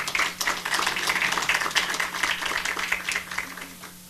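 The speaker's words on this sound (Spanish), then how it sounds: "Un aplauso, por favor." An audience claps steadily at the inauguration of a human rights forum-workshop for journalists and officials, a dense, even applause filling the room from start to finish and only easing slightly at the end.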